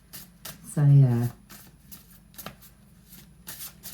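Tarot cards being shuffled in quick papery riffles and slaps, with a voice speaking briefly over the card noise.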